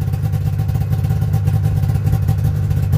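A snowmobile engine idles with a steady, rumbling burble, loud and close and continuous throughout the short stretch, with no voices.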